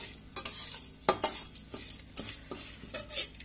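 Urad dal, chana dal and cumin seeds fry in a pan while a spoon stirs them, giving close scraping strokes over a soft sizzle, with no voices.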